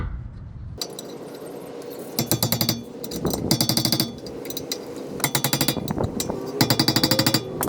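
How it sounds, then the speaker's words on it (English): Caliper mount bolts on a 2009 Honda brake assembly being tightened with a ratchet, giving rapid bursts of metallic clicking in repeated runs separated by short pauses and light handling clatter. "Installing the caliper mount. Tighten up the bolts."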